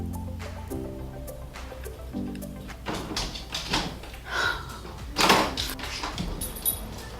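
A bedroom door is handled nearby, with creaks, knocks and a louder bump from the latch and frame set against a faint background hum.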